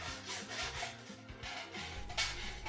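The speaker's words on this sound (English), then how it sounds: "I'll use these as a guide when I finally file the holes in the actual steel sheet" A hand file rasps holes into a steel sheet for an MGC pedal box shelf. The strokes come as a quiet, continuous back-and-forth scraping, close up, with no voices.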